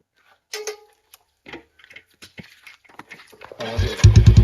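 A motorcycle engine cranks and catches after a few quiet clicks and rustles, then idles loudly with a rapid, pulsing putter close by.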